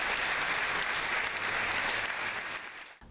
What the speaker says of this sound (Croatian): impresivnu izvedbu nagradili su bogatim pljeskom